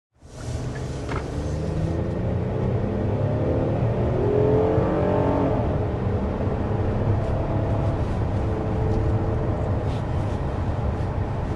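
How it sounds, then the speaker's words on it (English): A naturally aspirated 3.8-liter V6 in a 2024 SUV accelerating uphill, a smooth steady engine growl rising and holding loud throughout with a faint whirring undertone. "they have smooth, refined V6 growls"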